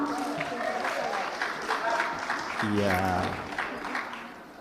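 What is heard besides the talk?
audience applause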